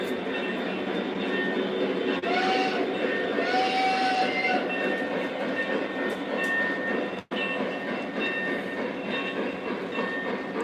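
A Lionel or MTH model train with a Pennsylvania B6 locomotive runs on its track, giving a steady close rolling rumble with faint clickety-clack, brief whistle tones and one sharp click partway through.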